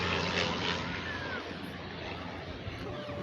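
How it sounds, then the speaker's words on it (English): An aeroplane coming in to land near Wilson Airport, Nairobi, drones as a distant, steady engine rumble heard over outdoor wind noise beside a nature walk. "So you can see some aeroplanes going to land."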